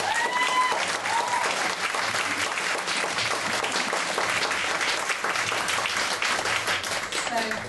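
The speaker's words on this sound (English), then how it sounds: "Let's give them another little round of applause." Sustained round of applause from an audience at a singing performance, dense broadband clapping filling the whole stretch with faint voices and whoops mixed in.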